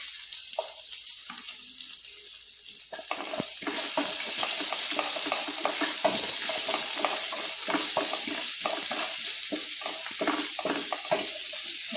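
Ginger and garlic frying in a pan while making green masala chicken, a faint sizzle that grows louder and denser after the first few seconds, with intermittent stirring scrapes, no speech.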